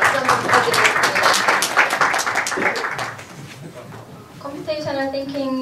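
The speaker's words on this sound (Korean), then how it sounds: "박수 한번 부탁드리겠습니다" Applause from a lecture audience at a Korean university talk on computational thinking, a brisk run of claps mixed with voices that fades after a few seconds as speech continues.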